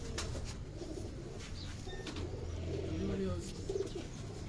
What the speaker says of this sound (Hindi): ये अम्बाले वाले कबूतर हैं उस्ताद के।